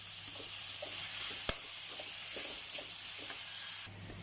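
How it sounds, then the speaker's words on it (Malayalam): Beans and capsicum being sautéed in hot oil, a steady bright sizzle with scattered soft scrapes and clicks of stirring and one sharp tap partway through, close and alone without any voices. "പിന്നെ കുറച്ച് ചേർത്തിട്ടുള്ളത് ക്യാപ്സിക്കം ഐറ്റംസ് ഇത് ചേർത്ത് കൊടുത്ത് നന്നായി വഴറ്റുക"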